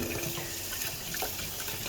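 Water spraying hard against a surface while baked-on grease and charcoal are rinsed off, a steady broadband hiss running throughout without pause.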